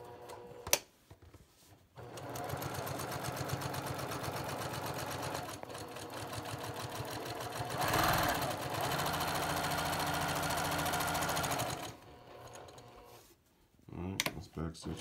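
A sewing machine sews quilt blocks, right sides facing, with a quarter-inch seam and a back stitch. It starts after a couple of seconds, hums steadily for about ten seconds with a brief surge midway, then stops. Faint talk is heard around it.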